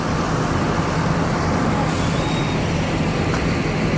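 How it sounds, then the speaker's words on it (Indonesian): Patriot intercity bus pulling into a terminal at Pondok Pinang amid continuous loud road traffic noise, with a brief air-brake hiss near the middle. "Bis Patriot masuk nih"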